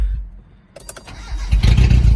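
A Mitsubishi Mighty Max pickup truck engine cranks briefly, then catches and starts quickly, settling into a loud, rough idle close by.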